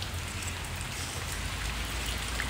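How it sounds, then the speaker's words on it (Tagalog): Steady rain falls on a rainy day, a dense, continuous hiss of drops hitting surfaces at an even level throughout, with no voices. "Oh my God, ulan."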